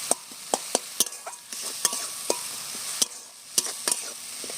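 Spice paste for an eggless vegetarian curry fries in oil under a steady sizzle, while a spatula scrapes and taps the pan in irregular, close strokes.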